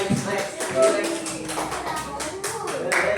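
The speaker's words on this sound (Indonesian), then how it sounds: "Oke, tepuk tangan dulu." A classroom of students clapping their hands together during an English lesson, a brief burst of quick, uneven claps close by, with light shuffling underneath.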